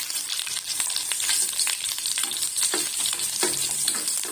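Crushed garlic fries in hot oil with mustard seeds, cumin and curry leaves for a tomato chutney, giving a lively close sizzle with crackles and repeated scraping stirs of a spoon against the pan.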